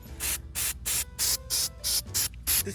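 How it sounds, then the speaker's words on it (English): An aerosol coating is applied to wood in nine quick, evenly spaced bursts of hissing spray, each separated by a brief silence, close and fairly loud with no talking. "Take little short sprays."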